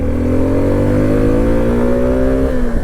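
A Suzuki V-Strom 250 motorcycle engine revs steadily in second gear, a loud, continuous close-up drone whose pitch climbs slowly, then dips slightly near the end, with no talking.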